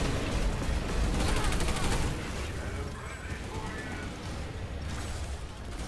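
Dense automatic gunfire crackles nonstop in the online shooter game Planetside 2, loud and close for the first two seconds, then continuing as a slightly softer, steady barrage of shots and explosions.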